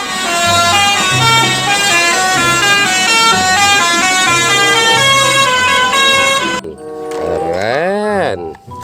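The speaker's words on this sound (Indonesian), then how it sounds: "Wow, ini ada bus tololet teman-teman." A toy bus plays its telolet horn, a loud, melodic run of honking notes in a repeating tune, close and steady, then stops as a voice speaks with rising and falling pitch.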